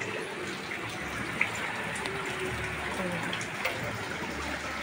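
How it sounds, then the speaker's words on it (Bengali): Continuous heavy rain on a flooded street, a dense steady wash of falling water and gushing floodwater, fairly close and even, with a few faint splashes. "কালকে রাত্রি থেকে কন্টিনিউ বৃষ্টি হচ্ছে"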